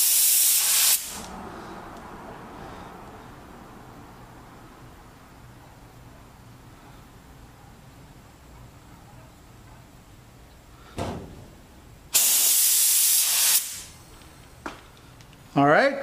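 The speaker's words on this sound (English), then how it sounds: "let me start setting up the fan pattern and let's see how it sprays" A Pro-Tek 4000 HVLP spray gun sprays in two loud, close bursts of hissing air, one brief at the start and one lasting about a second and a half later, with quiet handling noise between.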